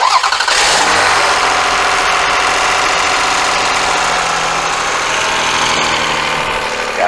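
A 2004 Toyota Avalon engine cranks and fires up, then settles into a loud, steady idle up close, with a faint rattling texture in the running engine.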